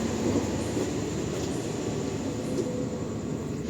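KA Lodaya train running, heard from inside the carriage: a steady, dense rumble of wheels on track, constant and enveloping with no voices.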